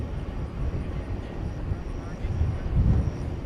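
An airplane at DFW Airport at night, a low, steady engine rumble that swells slightly toward the end, distant and mixed with wind noise, with people talking over it.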